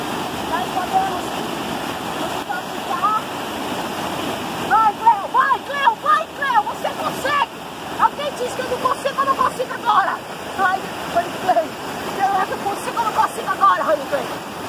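A waterfall at a home property pours in a steady, rushing wash of water, loud and close, while people talk over it through much of the stretch.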